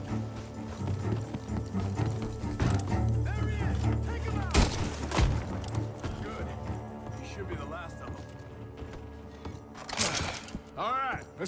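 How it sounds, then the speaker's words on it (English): Sharp gunshots ring out in Red Dead Redemption 2 from a barn, two heavy blasts a few seconds apart over horse hooves, a dense game score and voices talking. "The gunshots are coming from that barn!"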